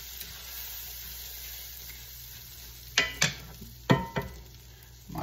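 Oats for homemade granola being stirred in a kitchen bowl, a low steady scraping hiss with a few sharp clinks and scrapes of the spoon around the middle, no talking.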